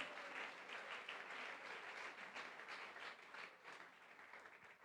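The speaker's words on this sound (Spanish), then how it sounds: "Denle un aplauso al Señor." A church congregation in Medellín applauds steadily, a dense wash of many hands clapping that stays even and then fades slightly toward the end, fairly faint.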